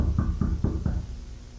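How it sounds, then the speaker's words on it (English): Four evenly spaced, solid knocks strike a door in quick succession, loud and close, followed by a brief fading silence. "Stop with the knocking on the door."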